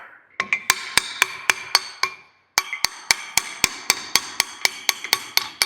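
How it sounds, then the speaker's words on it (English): Someone hammers a front fork part of a VW-powered UFO trike into position with a steady series of sharp metallic strikes, about two per second, pausing briefly midway before continuing. "I'll just hammer this thing into position"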